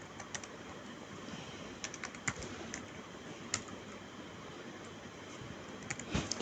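Fingers tap on a computer keyboard while entering data into a spreadsheet, scattered quick clicks and short bursts of keystrokes over a faint steady hiss, close and quiet.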